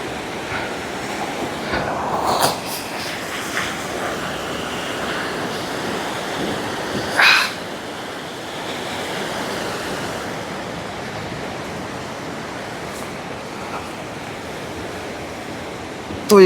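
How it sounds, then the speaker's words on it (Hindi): Glacial meltwater river rushing out from under a glacier in Kinnaur's Bhaba Valley, a continuous broad roar of flowing water mixed with wind buffeting the microphone and a couple of brief louder gusts. "ग्लेशियर के नीचे से पानी जा रहा है, सामने नदी"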